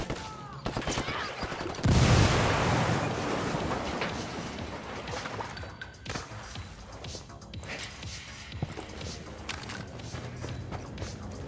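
A frag grenade thrown and detonating in the Ghost Recon Wildlands shooter, a loud broadband blast near two seconds followed by a long rumbling tail mixed with scattered gunfire and game noise.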